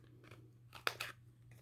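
A couple of quiet crisp scissor snips rounding a paper corner, close up, with a sharper cut in the middle, over a faint steady hum.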